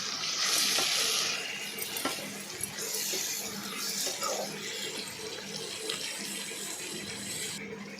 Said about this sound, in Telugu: ఇప్పుడు నేను వేసి బాగానే ఫ్రై చేస్తున్నాను. టమాటాలు వేగిన వరకు ఫ్రై చేస్తూనే ఉంటాను.